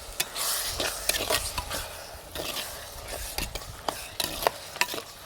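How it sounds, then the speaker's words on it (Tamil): Onion, tomato, ginger, garlic, green chillies, cinnamon and cloves sautéing in a clay pot for a mutton curry: a soft sizzle broken by repeated sharp scrapes and clicks of stirring. "வெங்காயம் தக்காளி இஞ்சி பூண்டு நாலு பச்சை மிளகாய் பட்டை கிராம் எல்லாமே வந்து நல்லா வதங்குது"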